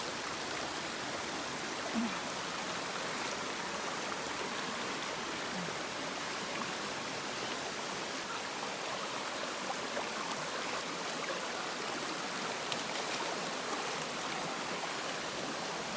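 Waterfalls and a flowing stream give a continuous broadband rush of water, steady and fairly soft, with no voices over it.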